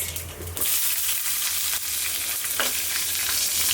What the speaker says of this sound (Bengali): কালো জিরা ফোড়ন দিয়ে ইন্ডিয়ান রান্নাটা করি